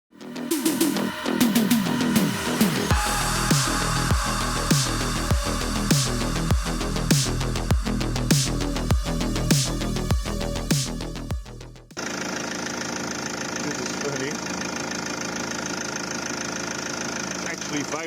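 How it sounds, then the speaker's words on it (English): A diesel car engine with glow plugs is started and left idling to warm up, giving a loud, steady knocking rumble with a regular beat that carries on without a break and then shifts to a steadier drone partway through. "I'm gonna run the engine now, let it warm up a bit"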